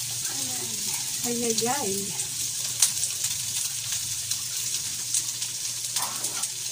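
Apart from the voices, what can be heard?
food frying in cooking oil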